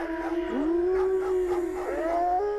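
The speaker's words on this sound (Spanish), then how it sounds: "se encontraban desconcertados por tanto ruido que provocaban estos canes." Dogs howling in a dark neighborhood north of Mexico City, one long wavering howl rising and falling over about two seconds, fairly close and steady, with no talk.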